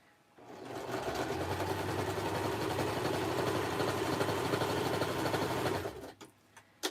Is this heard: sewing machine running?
yes